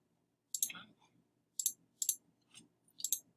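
Mouse clicking while navigating Google Drive, several crisp clicks in quick irregular bursts, close and clear against near silence.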